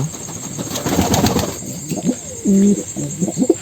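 Domestic pigeons at a home loft coo close by in soft, low, throaty phrases, with one longer sustained coo near the end, over faint background hum.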